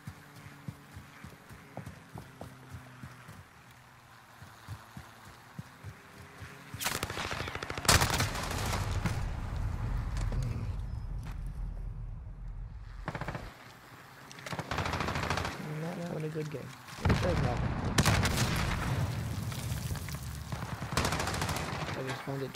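Gunfire bursts from Call of Duty Modern Warfare, coming in loud dense volleys after a quieter stretch, with several separate bursts and pauses across the match.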